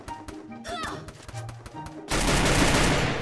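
Gunfire in the Free Fire mobile game: a few sharp isolated shots and clicks, then a dense, loud burst of rapid automatic fire filling the last second, with a voice talking faintly underneath.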